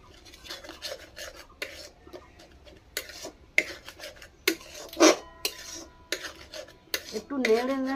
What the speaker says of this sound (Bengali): একটু নেড়ে নেড়ে তারপরে সসের মতন হয়ে গেলে, সম্পূর্ণ টাইট হলে এটা তারপরে নামাবো